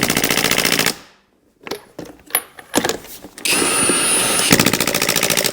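A Hercules brushless impact wrench on its lowest setting, used on a Jeep Liberty rear shock, hammers in loud rapid bursts, stops, then after a few clanks and knocks runs again in a long steady rattling burst.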